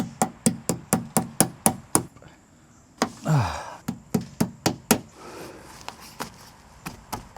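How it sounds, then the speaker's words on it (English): A hammer taps a rubber seal into place on a Sprinter camper van window. The knocks come in quick, steady runs, with a short scraping pause midway before more even strikes, all close and clear. "I hammered the rubber into place"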